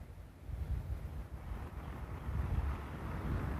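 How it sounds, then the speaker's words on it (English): Steady outdoor wind roars and buffets the microphone for the whole stretch, a dense low rumble that swells slightly near the end, with no voices. "Of course, the wind out here is blowing too."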